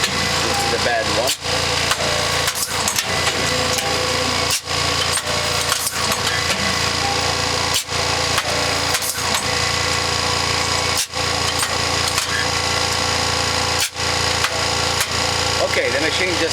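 An RYO EZ-Fill cigarette making machine runs with a continuous motorized whir broken by periodic clunks as each cycle completes, close and steady, with a person talking at points.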